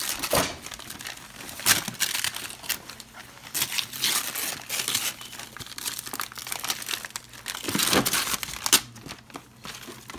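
Christmas present wrapping paper crumples, crinkles and tears in repeated bursts up close, with louder rips around the middle and near the end as a gift is opened.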